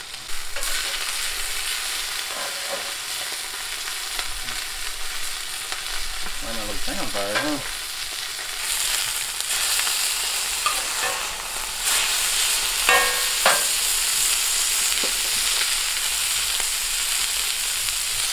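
Two salt-and-peppered steaks fry in a cast iron pan at a campsite, a steady, close sizzle with crackling spits and occasional scraping or stirring, no talk over it.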